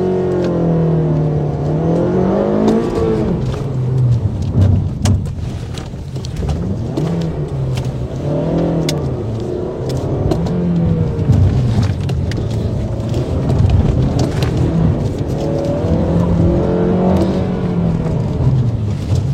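A car driven hard around a spectator slalom course at the Aurum 1006 km race event, its engine revving up and down in repeated close sweeps with no talking.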